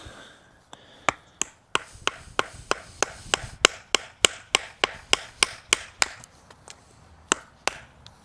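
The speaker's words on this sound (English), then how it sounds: "let's just go ahead and cut this bad boy down" A knife, the Condor Patagon hunting knife, chops through a wooden dowel in about two dozen sharp, evenly spaced woody knocks, close and crisp, with brief quiet gaps between strikes.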